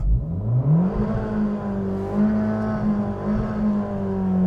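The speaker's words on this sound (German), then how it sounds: "Ich mache euch das Auto an, gib mal Gas hier, Sportknopf im Leerlauf." A 2020 Abarth 695 70° Anniversario with 180 PS and sport mode engaged revs in neutral, its engine note rising quickly, then holding a steady, buzzy drone with small swells, close and prominent.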